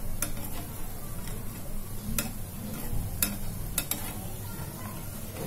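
Soft pakoras gently turned over in hot frying oil, a steady low sizzle with a few sharp clicks and taps of a utensil against the pan scattered through, close and fairly quiet.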